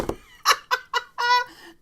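A phone messaging notification that imitates a bird, a short run of clucking, chirpy electronic tones in quick uneven bursts, clear and close with no talking.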